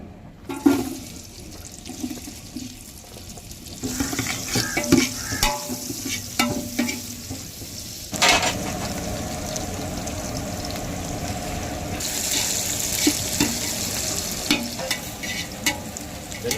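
Chopped onions, about 400 g, drop into 200 ml of hot oil and fry for chicken biryani, a dense close sizzle that swells after the first seconds and then holds steady, with occasional stirring clatter and no talking.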